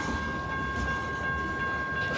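A Paducah and Louisville Railway freight train rolls past, picking up speed, with a steady heavy rumble and wheel noise alongside a thin, sustained high whine, close and continuous without voices.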